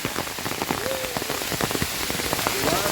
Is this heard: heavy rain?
yes